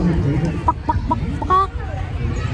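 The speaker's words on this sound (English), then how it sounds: "fascinated by the sound of chickens" A few chickens cluck close by in short, choppy bursts over a low background rumble.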